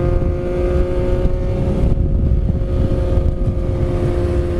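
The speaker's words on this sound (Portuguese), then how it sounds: "Estamos com a CBR1000 aqui do Richard, saindo para dar uma testada nela aí" A Honda CBR1000RR motorcycle engine runs steadily close by, a loud, constant growl with a strong low rumble and no clear revving.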